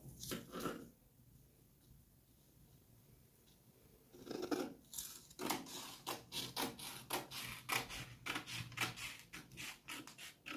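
Scissors cut out a paper sewing pattern for a bust dart. Quiet snips and rustles stop and start at first, then settle into a steady run of close, crisp cuts.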